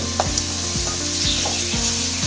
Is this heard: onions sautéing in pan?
yes